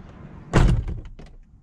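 A 2004-2006 Scion xB driver's side door swings shut with a loud, close thud followed by a shorter latch knock, then a fainter click and rattle as it opens again, with no voices.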